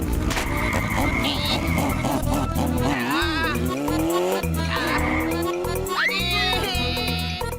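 A cartoon motorbike races along with squealing tires and swooping, high-pitched whines that rise and bend, loud and continuous, while cartoon voices talk over the engine noise.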